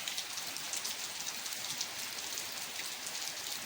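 Steady rain falls continuously in a village setting, an even hiss of drops on surfaces with no pauses, moderately loud and close, with no voices.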